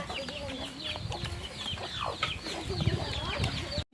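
Chickens cluck steadily on a rural coconut farm, several birds close by with rising and falling calls over a busy outdoor background.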